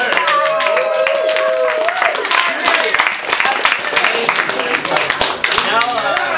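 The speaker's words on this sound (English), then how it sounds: "let's give a round of applause for all that hard work" Applause breaks out for poets at a boozy poetry night, a mix of scattered hand claps and cheering voices in a lively room, with people calling out and talking over the clapping throughout.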